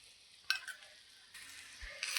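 Oil sizzling under a moong dal parotta on a hot pan, a faint soft crackle with a few brief louder bursts of frying, close and quiet.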